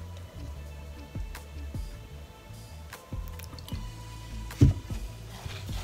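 Water is added bit by bit to a mosaic mix, producing small repeated drips and soft wet squishes in an irregular rhythm, close and fairly quiet, with no talking.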